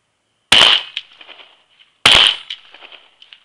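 A Stoeger 12 gauge coach gun shotgun fires two loud, sharp shots about a second and a half apart outdoors, each followed by a short echoing tail.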